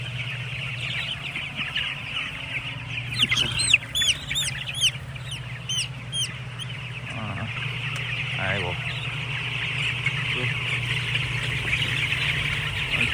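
Chickens and young chicks in a poultry barn during summer rearing, a steady dense chorus of peeping and clucking with a low ventilation-fan hum throughout and a few louder bird calls in the first half.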